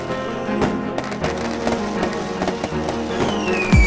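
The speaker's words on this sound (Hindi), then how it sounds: "हाँ बेटा ये लो म्यूजिक लगा दो ताकि पटाखे का शोर कम हो जाए।" Firecrackers set off during Diwali crack and pop in a quick irregular series of sharp bangs, some loud and close, others fainter, with music playing underneath.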